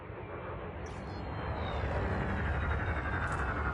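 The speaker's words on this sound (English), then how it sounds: "Now increase your throttle to accelerate forwards." Spaceship engine in Elite Dangerous throttling up to accelerate forwards, a broad continuous roaring rumble that builds steadily in loudness, with faint high whines above it.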